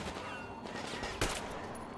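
A single gunshot in Metro Exodus cracks sharply midway through a quiet, low-level game soundscape, standing out as one brief loud burst.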